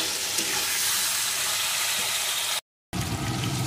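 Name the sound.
stir-frying broad beans in a pan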